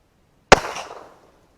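A single sharp report from a Ruger Vaquero revolver firing CCI rat shot at a sheet of tinfoil, loud and close, with a short ringing decay and no talk.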